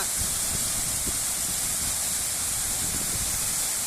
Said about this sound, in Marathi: हा धबधबा आहे बिरवाडी मेंगाळपाडा दरम्यान समृद्धी लगत असणारा हा धबधबा